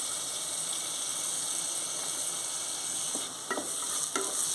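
Green chillies, curry leaves and ginger-garlic paste fry in an oiled pan, a steady hissing sizzle broken by a few scraping stirs of a spoon late on, no talking.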